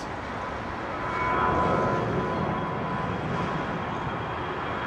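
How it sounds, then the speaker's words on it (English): Airbus A380 airliner landing at London Heathrow at night, a steady distant roar of jet engines that swells slightly and then holds, with no voices. "the 2 BA380s are coming in on the Northern"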